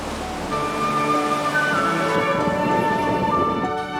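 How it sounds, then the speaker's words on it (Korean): Ocean waves crash against the rocks at Kiama on the coast south of Sydney, Australia, making a loud, steady roar of surf with no voices. "정말 바위를 때리는 파도 소리가 우렁차다."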